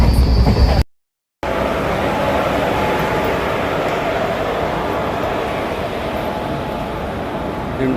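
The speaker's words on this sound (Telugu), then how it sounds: "దిండుకల్ పోవడానికి నేను ఇదే ట్రైన్లో ప్రయాణం చేస్తున్నాను." Passenger train bound for Dindigul, Tamil Nadu, heard from inside as a steady rumbling roar of wheels on rail, continuous and loud, with a brief dropout near the start.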